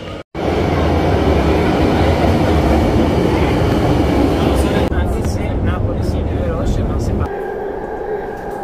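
A Milan metro train rumbles loudly and steadily up close, then brakes and slows with squealing tones and a drop in noise near the end.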